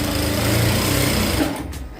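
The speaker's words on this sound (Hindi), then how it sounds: "इसको इस तरह से किनारे से स्टिच लगा लेंगे।" A sewing machine runs steadily while stitching along the folded edge of a petticoat, a continuous close whirring buzz that stops abruptly just before the end.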